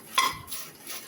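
A utensil stirring and scraping spices as they dry-roast in a pan for homemade rasam powder, one sharp metallic clink near the start followed by softer scraping, close and fairly quiet.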